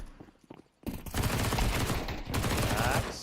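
Pistol gunfire in a Counter-Strike pro league match, a dense burst of rapid shots over loud in-game noise, near and sustained after a brief quieter lead-in, with a commentator's voice.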